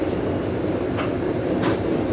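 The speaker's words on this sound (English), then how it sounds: "a Rocky Mountaineer train is approaching" A Rocky Mountaineer train rolls past near a lake on the Kamloops to Banff route, a loud continuous rumble of wagons with a thin high wheel squeal riding over it, heard close and without talk.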